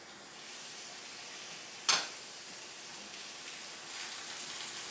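Frozen cod sears in hot oil in a pan, a steady soft sizzle with a sharp crackling spurt near the start that fades back to a low constant hiss.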